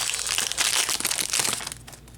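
Crisp, continuous crinkling of a Yu-Gi-Oh card pack's foil wrapper being torn open up close, loud and busy for about two seconds before easing off.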